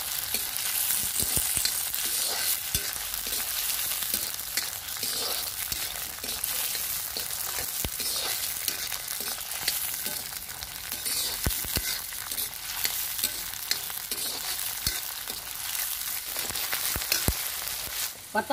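Green peas fry lightly in a kadhai with a steady crackling sizzle, broken by occasional sharp clinks of a stirring spoon against the metal, close and continuous.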